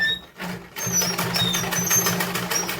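Sewing machine stitching the folded hem of a salwar, a steady fast mechanical whir with rhythmic needle clatter running continuously after a brief pause near the start.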